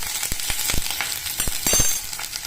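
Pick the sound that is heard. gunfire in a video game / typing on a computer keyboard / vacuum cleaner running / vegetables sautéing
vegetables sautéing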